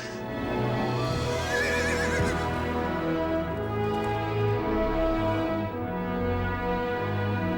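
A horse neighs and whinnies loudly and close by, with a rich, sustained call over a dense background of hoof clip-clop and ambient noise.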